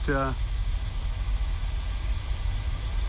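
Simulated Boeing 737-700 jet engines spooling up in Microsoft Flight Simulator 2020, a steady loud broadband roar that holds throughout, with a brief tonal chime at the start.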